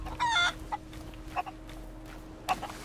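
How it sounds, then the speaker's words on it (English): Chickens on an island in the pirate video game Sea of Thieves cluck quietly in a few scattered, short bursts over a low, steady in-game ambience. "But I think there are more chickens down here as well."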